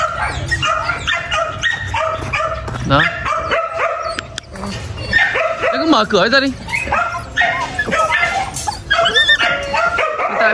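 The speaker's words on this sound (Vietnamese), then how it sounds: "Còn báo mình đây là chú cún cái số 1" Belgian Malinois puppies at a kennel bark, yip and whimper in overlapping bursts, close and loud, while people talk over them throughout.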